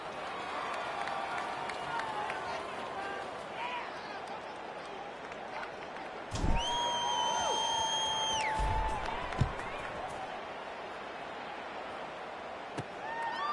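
Stadium crowd at a Mississippi State vs Tulane college football game during a kickoff, a steady, subdued roar of many spectators throughout, with a brief whistle-like tone rising midway and scattered sharp knocks.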